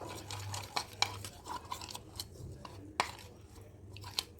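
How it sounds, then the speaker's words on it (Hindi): A spoon stirs custard powder into milk in a pan, a steady scraping swirl with several sharp clinks against the sides, close and fairly quiet, alongside a faint low hum. "इसको अच्छी तरह से मिक्स करना ताकि कस्टर्ड अच्छी तरह मिक्स हो जाए"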